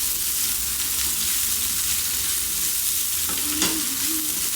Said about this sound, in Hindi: अभी थोड़ा सा ये प्याज और लहसुन भुन गए हैं तो अभी मैं भिंडी डाल रही हूँ।